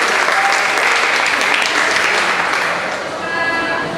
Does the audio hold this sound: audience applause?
yes